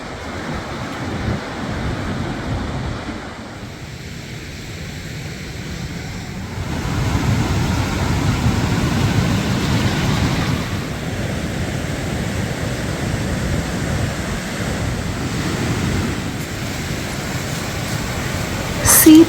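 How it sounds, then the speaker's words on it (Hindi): Ocean waves wash onto a beach in Mexico in a broad, rolling rush that swells and fades, near and fairly loud, with wind buffeting the microphone and no clear talk. "C therapy at the max, बस लहरों को सुनते रहो"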